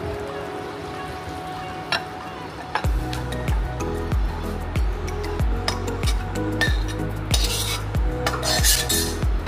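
Bhetki fish curry being served into dishes with cutlery: a run of close, sharp clinks and scrapes of metal utensils against plates and pots, with no speech.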